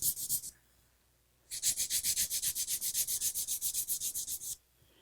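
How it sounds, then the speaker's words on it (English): A nail file rubbed flat from underneath against an almond-shaped nail makes rapid rhythmic rasping strokes, first a short burst, then a pause, then a long steady run of about twenty even strokes, close and alone. "So you're filing from the underneath, holding the file flat."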